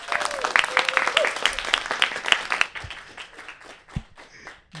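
Live studio audience clapping inside a university TV studio, a loose burst of many hands for roughly two and a half seconds that quickly thins to a few scattered claps amid room noise.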